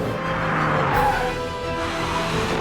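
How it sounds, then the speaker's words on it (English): A Mini Cooper SD diesel hatchback drives hard through a fast left-hand bend while oversteering. Its engine drones loudly and steadily throughout, with faint tyre noise beneath. "Oh, there's a nice bit of oversteer at the top."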